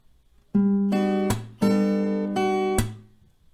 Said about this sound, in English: And then we have the final chord here, the F. Sounds like this.